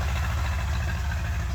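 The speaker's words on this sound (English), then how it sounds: "There goes a putt-putt Minneapolis Moline tractor" A Minneapolis Moline tractor engine idles with a steady low putt-putt throb, loud and continuous throughout with no talk.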